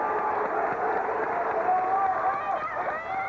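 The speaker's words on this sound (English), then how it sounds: "Shelton gets a round of applause for Gate City fans" Gate City basketball fans applaud a departing player in a packed high school gym during a regional quarterfinal, a steady wash of crowd clapping and cheering with murmuring voices throughout.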